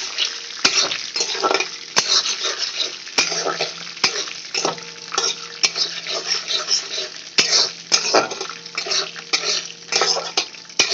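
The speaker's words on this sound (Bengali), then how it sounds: "বাদামটাকে স্লাইস একটু ভেজে নিচ্ছি।" Sliced peanuts fry in hot oil in a wok, giving a steady, close crackling sizzle broken by frequent sharp scrapes and clicks of stirring throughout, with no voices.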